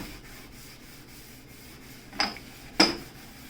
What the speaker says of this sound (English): We're scouring.